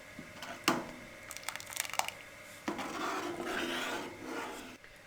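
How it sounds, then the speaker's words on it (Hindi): Chicken corn soup simmers in a pot while a spoon scrapes and stirs it, producing quiet rasping and clinking strokes that give way to a soft, steady bubbling hiss. "चिकन कॉर्न सूप को बहुत अच्छे से उबाल आ रही हैं"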